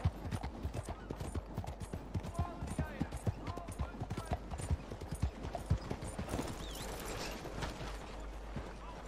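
Rapid, steady clip-clop of horse hooves galloping in the Western video game Red Dead Redemption 2, loud and close, with creaking tack and faint ambient game sounds around the hoofbeats.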